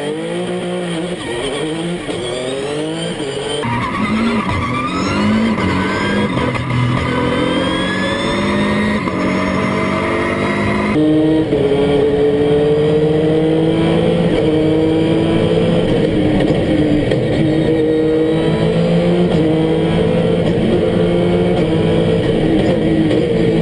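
A modified Dacia Duster races up the Pikes Peak hill climb, its engine roaring loud and close from the onboard position. It revs hard and shifts repeatedly, with rising pitch sweeps through the gears and a sustained high-revving drone.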